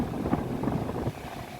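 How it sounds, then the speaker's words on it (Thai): Air conditioner blower fan in a high-mileage Mazda3 running at speed setting 3, pushing a steady, broadband rush of air from the dash vents; close and constant, easing slightly softer near the end. "เปิดสปีดพัดลมอยู่ที่3ขีด"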